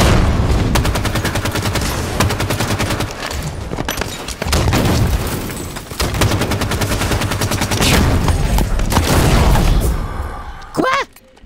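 Magnum pistol gunshots fired in Halo 5, dense repeated reports across most of the stretch amid other battle noise, loud and close, with talk heard alongside the shooting.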